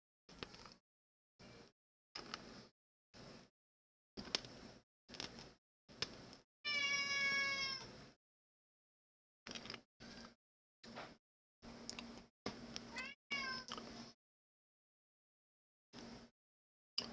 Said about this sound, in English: I don't know if you can hear my cat run, but he's a pain in the butt. He's a Savannah cat